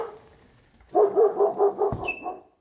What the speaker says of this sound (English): Every time somebody walk in with a flashlight, he'll bark.